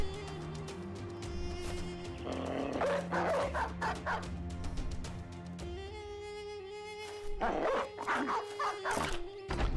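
Dogs attacking in the video game Battle Brothers, with yelping, snarling barks in bursts over a steady game music drone and clashing combat effects.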